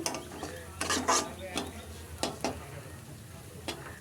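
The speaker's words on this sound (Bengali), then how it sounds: "প্রথমে ডালটাকে ভেজে নিচ্ছি কোনো ফোড়ন না দিয়েই ভাজছি" Mung dal dry-frying in a pan with no tempering, stirred in short scraping strokes that come in irregular bursts over a faint, quiet sizzle.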